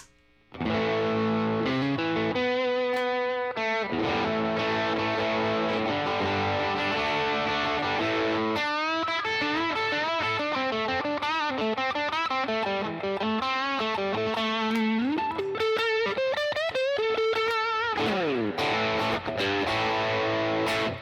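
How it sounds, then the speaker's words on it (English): Electric guitar played through a Tube Screamer overdrive pedal at stock settings into a UAD Dream '65 amp, with sustained overdriven chords and melodic riffs ringing out continuously and loudly, with no talking. "Here's the Tube Screamer, and everything's set on stock."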